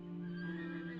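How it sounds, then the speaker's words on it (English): Brief horse whinny from the video game Kingdoms, a sustained tonal cry heard faintly for about a second. "Hope that's not my horse screaming."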